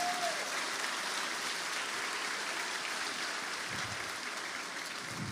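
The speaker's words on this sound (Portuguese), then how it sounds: "Você pode aplaudir o Senhor nessa noite." Congregation applauding during a church service, a dense, steady wash of clapping from many hands that holds at an even level throughout with no voices on top.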